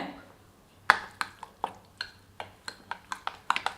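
Samba wheat rava adai dosa batter is stirred with salt in a bowl, producing a quickening series of sharp spoon-on-bowl clinks and wet squishes, close up and without talk.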